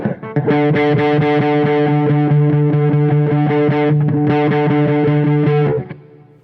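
Bright, twangy guitar picked steadily with a thumb pick near the bridge, notes ringing with a thin, metallic edge and slight distortion, played alone and close.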